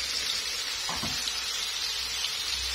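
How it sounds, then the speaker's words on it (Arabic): Garlic sizzling in spoonful of ghee for a molokhia topping, a steady close hiss of frying throughout, with a brief soft clatter near the middle. "هعمل الطشة، حطيت معلقة سمنة وهحط الثوم."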